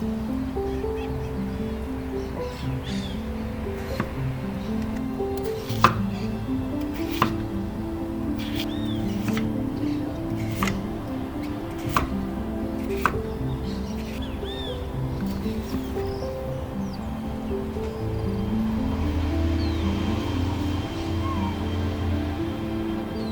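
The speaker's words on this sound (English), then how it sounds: "All we need to do is peel the vegetables and chop them up" A knife chops peeled vegetables for Indonesian oxtail soup, sharp scattered thunks on a cutting board at an uneven pace, faint under a steady background of music.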